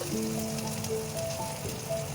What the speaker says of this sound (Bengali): দিয়ে আমি লাল লাল করে ভাজছি।